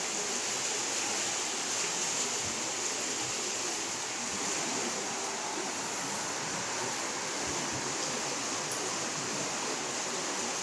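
River water rushes steadily behind a flood-damaged house, a constant broad roar of flowing current heard close and loud with no voices.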